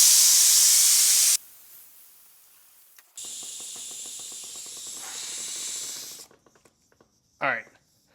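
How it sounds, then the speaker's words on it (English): Air hisses loudly out of an offroad tire with its valve core pulled, a strong steady rush for over a second, followed by quieter mechanical clicking and another stretch of hiss, with a brief squeal near the end. "we're gonna pull the valve core, deflate this tire"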